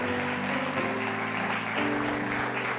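Sustained congregational clapping in a church fills the space as the worship team comes out, dense and even, with soft organ or keyboard chords sounding underneath.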